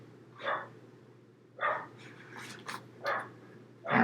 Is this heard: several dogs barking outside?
yes